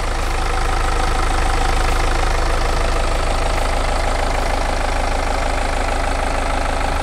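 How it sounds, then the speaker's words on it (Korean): A BMW X3 xDrive20d diesel engine idles steadily and loudly, a constant low rumble with a faint knocking rhythm. "엔진 소리 일정하네요."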